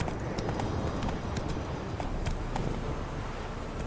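Roach, the horse in The Witcher 3, trots along with a steady, rapid clip-clop of hooves under a dense, rumbling outdoor game ambience.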